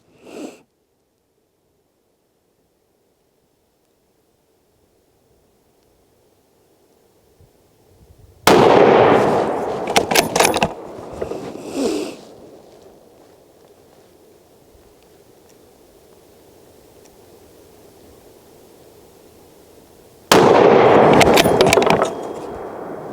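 Two loud, sharp rifle shots fired at a bullseye target through a scope set at 5 power, about twelve seconds apart, each ringing out with a reverberant tail over a quiet outdoor background.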